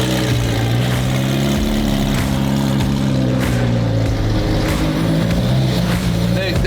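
A McLaren Senna hypercar with a straight-piped exhaust drones loudly and continuously up close, a deep rumbling engine tone shifting in pitch, with voices talking over it.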